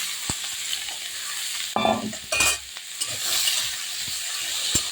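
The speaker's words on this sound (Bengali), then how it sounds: "এবার আমি বেগুন দিয়ে দেবো ওই তেলে।" Eggplant pieces drop into hot oil, setting off a steady sizzle with bursts of louder spitting and a few utensil clinks and scrapes, close by with no talking.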